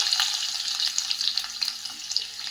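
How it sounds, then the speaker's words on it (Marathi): Chopped garlic sautés in hot oil with popping mustard seeds, cumin and asafoetida, a bright continuous sizzle with frequent crackles and spits, close and fairly loud. "थोडासा लालसर रंगावरती हा लसूण आपल्याला छान परतून घ्यायचा आहे"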